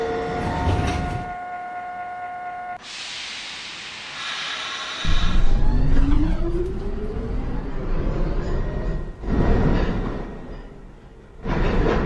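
A New York City subway 1/2 train pulls out of Fulton Street station, a loud rumbling departure with rising motor whine and rattling wheels swelling and surging near the platform.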